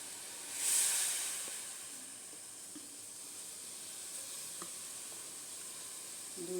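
A pot of liquid comes to a full boil in a home kitchen, giving a faint, steady hiss of bubbling and steam, with a brief louder surge near the start.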